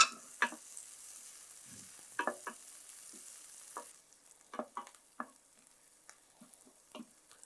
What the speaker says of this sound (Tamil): இப்போ அந்த வெங்காயம் வந்து கோல்டன் கலர் ஆயாச்சு